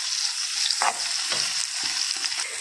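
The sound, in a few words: tomato paste frying in pan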